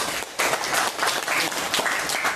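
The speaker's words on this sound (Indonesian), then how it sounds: "kita beri tepuk tangan juara dunia" Indoor audience applause at a product presentation, a short burst of clapping that swells in uneven waves over about two seconds with no one talking.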